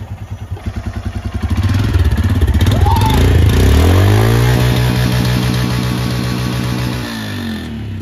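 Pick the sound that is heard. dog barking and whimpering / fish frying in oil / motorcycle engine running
motorcycle engine running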